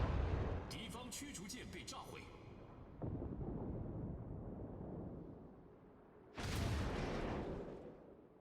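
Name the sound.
naval gunfire from enemy cruiser in World of Warships video game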